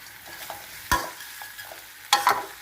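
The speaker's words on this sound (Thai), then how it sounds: "แล้วเอากุ้ง ลงไปผัดนะคะ" Shrimp stir-fried with garlic sizzle softly in a pan, with two sharp bursts of louder scraping and tossing as a utensil stirs them.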